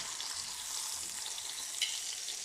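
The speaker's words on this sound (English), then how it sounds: "So, all we gotta do now is cook the bacon" Strips of bacon fry in a pan with a dense, continuous crackling sizzle close to the mic and a single small pop near the end. No one speaks.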